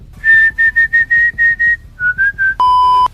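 A person whistles a quick run of short melodic notes, then a few more after a brief pause, ending on one long steady held tone; clear and close with no talking.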